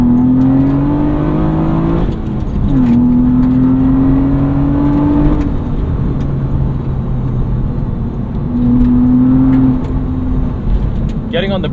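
A track-prepped Acura TL Type S accelerates hard, its engine revving loud and close through several gear changes, each climb in pitch dropping briefly before rising again.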